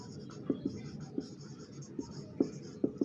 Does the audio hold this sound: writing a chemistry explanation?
yes